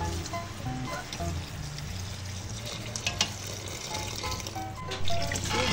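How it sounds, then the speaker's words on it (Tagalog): Water poured into a cooking pot while making soup, a steady liquid rush and trickle over faint kitchen background noise, no talking. "Lagyan na natin ng tubig."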